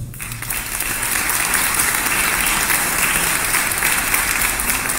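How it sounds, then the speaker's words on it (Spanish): A dense, steady round of audience applause at a book launch for Café de otoño, loud and continuous from start to finish. "Un aplauso."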